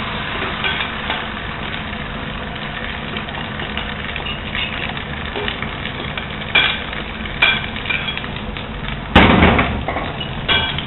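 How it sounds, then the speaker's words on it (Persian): An egg and spaghetti mixture meets hot oil in a pan, producing a steady sizzle and frying hiss with occasional clinks and scraping stirs, including a louder clatter near the end. "روغنم که داغ شد، که دیگه الان به اون مرحله داغ شدنش رسیده، بهش مواد رو اضافه میکنم"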